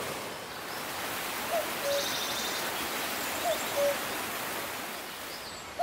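A common cuckoo calls twice, each a soft two-note call at moderate distance, over a steady hiss of rustling outdoor background.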